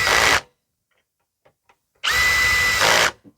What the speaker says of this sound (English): Drill set on like just 3, the clutch. I don't really want to over torque these.